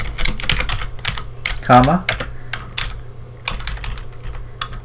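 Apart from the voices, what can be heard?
typing code on a computer keyboard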